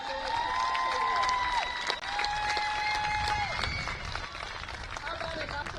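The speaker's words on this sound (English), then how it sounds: "How about a round of applause for all of our special graduates?" A crowd claps and cheers for graduating softball players at a high school AAA tournament game, a sustained patter of applause with voices and tonal calls rising over it.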